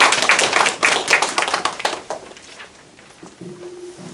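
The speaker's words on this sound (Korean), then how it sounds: "이 자리에서 한 번 더 감사의 박수 부탁드리겠습니다." An audience at a literary award ceremony claps, loud, close and dense for about two seconds before thinning to scattered claps and fading, followed by a brief sustained tone near the end.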